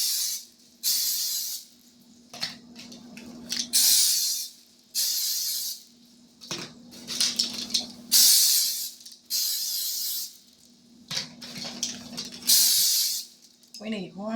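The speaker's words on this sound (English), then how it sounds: "We're going to spray these molds so that the dough doesn't stick to them." An aerosol can of cooking spray coats a row of cream horn molds in repeated short hissing bursts, close and steady, one after another with gaps between them, while a person talks intermittently.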